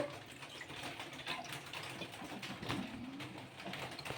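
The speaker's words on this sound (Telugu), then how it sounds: "ఇంకా కొన్ని నీళ్ళు అయితే వేసుకుందాము" Water poured into a wheat semolina and rice flour batter while it is mixed, a steady soft splashing and trickle throughout, fairly close and low in level.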